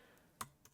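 Keys tapped on a computer keyboard, two brief soft clicks with the first one louder, close and quiet, with no talking.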